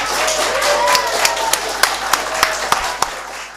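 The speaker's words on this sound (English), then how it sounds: "Let us give the boys a round of applause." Applause for the boys at a spelling bee, a steady crowd clapping with a few sharp near claps standing out over the patter.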